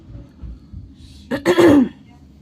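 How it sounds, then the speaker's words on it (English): A single throat clearing, close and fairly loud, a short rough rasp after a moment of quiet room noise. "sorry, I had to clear my throat there."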